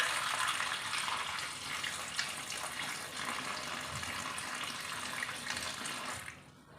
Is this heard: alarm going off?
no